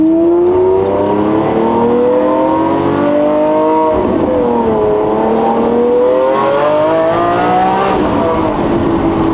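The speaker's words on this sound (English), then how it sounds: "hard to beat the sound of a catless V12." A catless V12 engine revs loudly and continuously, its pitch climbing, dipping and surging again in sustained high-rpm pulls, close and unbroken throughout.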